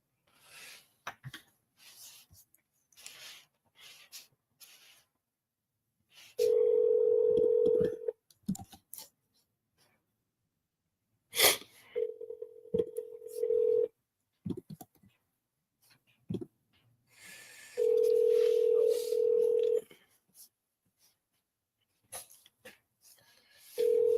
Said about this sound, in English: Let's call Gary.